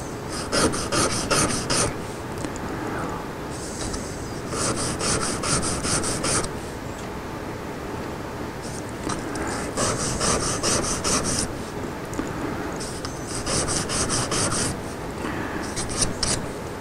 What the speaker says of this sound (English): Right, chisel away.